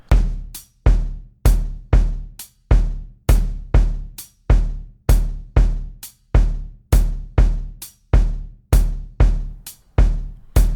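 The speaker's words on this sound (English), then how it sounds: "Let me play another drum track for you." A punchy jazz drum track plays alone in a Charleston groove, with sharp kick and snare hits and crisp cymbals landing in a steady, swinging rhythm.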